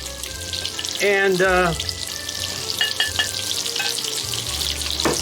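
Prawns and fish frying on a stovetop, a continuous sizzle with clinks and stirring sounds, while a person speaks briefly over it.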